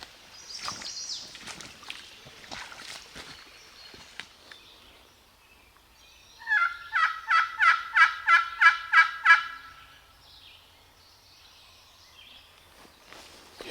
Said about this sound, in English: there's no doubt he's a gobbling turkey